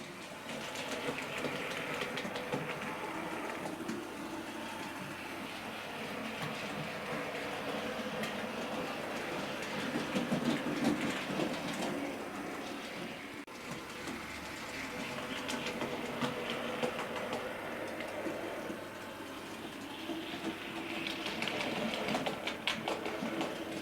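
A Bachmann 31-531 model locomotive runs along its track with a soft, continuous motor whir and light rolling rattle, steady and fairly quiet throughout, with no talking.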